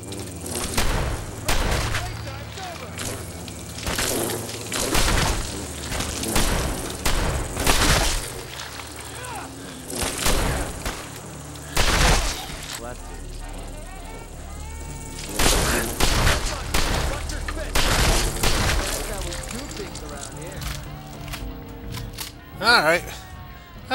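Gunfire in Fallout 4 as bugs are shot while clearing the Taffington Boathouse: repeated loud bursts of shots and thuds in uneven clusters, with someone talking between them.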